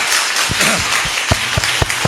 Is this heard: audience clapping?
yes